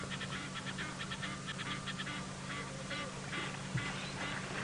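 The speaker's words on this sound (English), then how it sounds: "some of the bird calls" Repeated bird calls ring out in short bursts at a safari waterhole during a sunset game drive, duck-like quacking and honking over a steady low hum of background noise, fairly distant and without talk.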